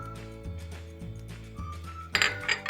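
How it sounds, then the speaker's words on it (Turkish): A spoon mixes kısır bulgur salad with mint, isot pepper, cumin and black pepper in a bowl, producing close, rhythmic scrapes and soft knocks against the bowl, ending in a few brighter clinks. "Ve her tarafı denk gelecek şekilde karıştırıyorum."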